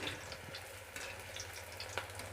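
Manchurian balls frying in a pan and being stirred, with a steady low sizzle and a few soft scrapes and clinks at a moderate distance, no voices.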